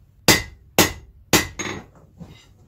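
A blacksmith hammers a knife on an anvil, three loud ringing metallic strikes at an even pace followed by a few softer, quicker taps, close up with nothing else around.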